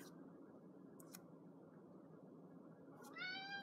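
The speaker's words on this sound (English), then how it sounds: "We have quite a few cats, pet cats, but Marlo is our resident talker" A pet cat meows near the end, a clear rising, harmonic call after a stretch of steady low room rumble with a couple of faint clicks.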